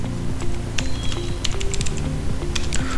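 Fingers type HTML code on a computer keyboard in fast, close, uneven clicking bursts, with key taps following one another continuously over a low background hum.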